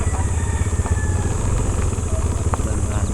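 A motorcycle engine idles steadily up close, one of three bikes, with a continuous low rumble and clatter running throughout while voices talk over it.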